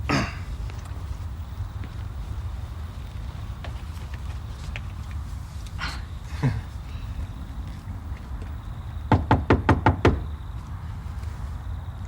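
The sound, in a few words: knocking on a bedroom door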